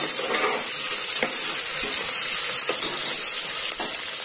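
Beans, carrot and other vegetable pieces are stirred inside a cooker over heat. A loud close sizzle runs throughout, broken by several spoon scrapes against the metal.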